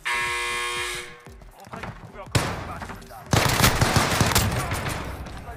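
Automatic gunfire in the shooter game Call of Duty: Warzone, rapid bursts rattling loudly after a buzzing tone, with a dense barrage near the end and voices talking underneath.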